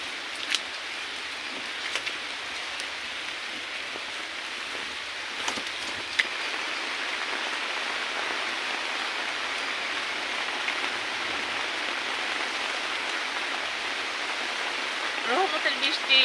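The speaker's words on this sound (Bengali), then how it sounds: "এটা কিন্তু রহমতের বৃষ্টি হচ্ছে, দেখতে পাচ্ছেন" Steady morning rain falls on a rooftop garden, a continuous broadband hiss of drops on leaves and surfaces, even and moderately close, with a few brief knocks and no talk.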